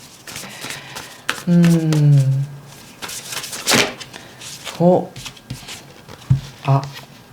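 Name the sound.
shuffling and drawing an oracle card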